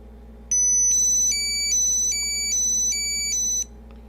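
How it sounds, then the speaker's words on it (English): Baseus T2 anti-lost tracker emitting a loud electronic beeping pattern, a rapid repeated series of high tones lasting about three seconds, close and clear over a low steady hum. "The beeping sound tells you where's your AirPods or your items or your mobile devices."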